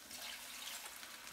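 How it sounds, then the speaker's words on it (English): A can of water tipped into a pot of cauliflower curry, giving a brief, continuous splashing pour, soft and close, heard alone. "Next, float in a can of water"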